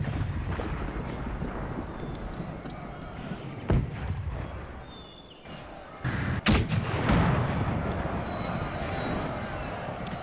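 Artillery booms across a Napoleonic battlefield in the Napoleon Total War game, with several heavy blasts at scattered moments, one close and loud, over a background of wind, hooves and distant battle noise.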